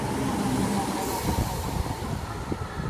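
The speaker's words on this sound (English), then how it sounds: "313061 was the 313 that Simon Train tried to record" A British Rail Class 313 electric train, unit 313061, passes at Stevenage station with a steady rolling rumble and rhythmic wheel clatter, close and fairly loud.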